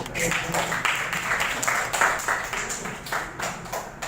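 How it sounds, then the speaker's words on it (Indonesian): Students in a classroom clap together after a simulation of a teaching model, with brisk, uneven handclaps in rapid rhythm close by that fade toward the end. "Kita beri tepuk tangan."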